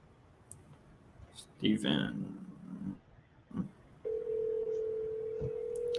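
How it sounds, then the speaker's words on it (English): Telephone dialing a call, with a few clicks and some handling noise, then a steady dial tone that holds to the end, fairly faint and close. "I'm about to call Steven."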